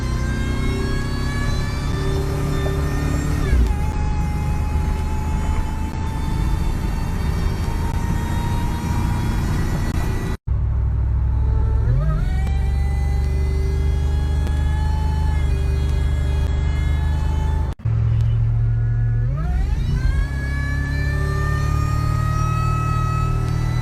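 10th generation Ford F-150 pickup truck engine whining as it accelerates, a loud rising tonal whine that climbs through gears in repeated runs, close and continuous.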